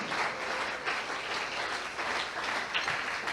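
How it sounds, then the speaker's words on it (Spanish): Congregation applauding during an evangelical church service, a steady dense clapping that fills the room and holds at an even level for a few seconds. "Denle ese aplauso al que vive"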